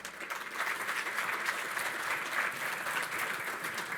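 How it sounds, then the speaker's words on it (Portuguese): An audience at a telecom industry conference applauds as the president of TIM Brazil is introduced, a continuous, moderately distant patter of many clapping hands. "peço uma salva de palmas para ele"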